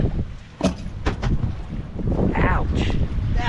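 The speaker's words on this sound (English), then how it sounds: "Alright, we're downwind sailing." A sailboat running downwind on an ocean crossing from the Dominican Republic to St Lucia, with loud wind buffeting the microphone and water rushing and splashing against the hull.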